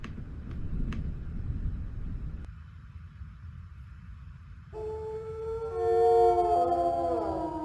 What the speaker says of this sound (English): That howl was much closer than before.